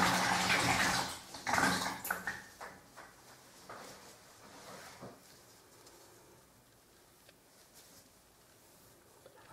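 A tiling sponge is swished and rinsed in a bucket of water, with a few splashy sloshes at first that fade into quieter dripping and faint handling noises.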